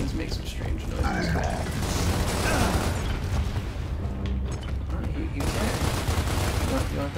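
Gunfire and explosions from the Gears of War: Ultimate Edition video game, a dense, continuous barrage of shots, bursts and booms at steady loudness, with game noise layered throughout.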